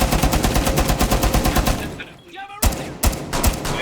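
Tachanka's LMG fires in Rainbow Six Siege as a loud, close, rapid stream of evenly spaced shots for about two seconds, then a brief lull and a few scattered single shots, with speech over part of it.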